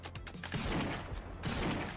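Gunfire in the video game RimWorld comes as a quick, close series of shots crackling into one another in two bursts, with no talking.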